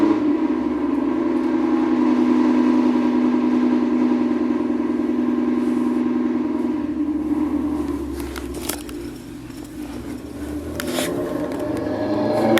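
A parked car outside a building in winter rumbles steadily with a low engine drone, then some irregular clattering and bursts of noise as it runs, heard from a distance.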